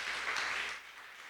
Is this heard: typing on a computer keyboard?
no